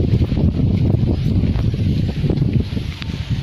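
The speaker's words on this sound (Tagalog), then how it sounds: "Ang lakas ng hangin." Strong wind buffets the microphone outdoors in a rural village near a river, a loud, rough, continuous rumble with gusting surges and no speech.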